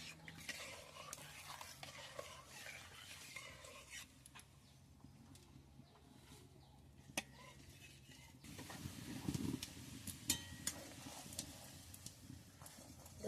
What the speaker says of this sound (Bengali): দুধটাকে ভালো করে জাল করে নেব ভাবে নাড়তে হবে যাতে দুধটা তলায় না বসে যায়